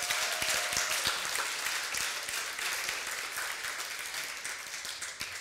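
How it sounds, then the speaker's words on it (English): Audience at an Ember.js meetup in New York gives a quick round of applause, a moderately loud, steady patter of many hands that slowly thins and fades over several seconds. "A quick round of applause."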